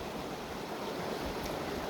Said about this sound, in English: The river's actually flowing underneath me